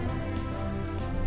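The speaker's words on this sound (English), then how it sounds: "It's raining a lot here." Heavy rain falls in a steady, dense hiss with no breaks, moderately loud and close, with no voices.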